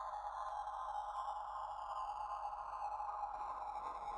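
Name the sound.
bit reduction effect modulated by an LFO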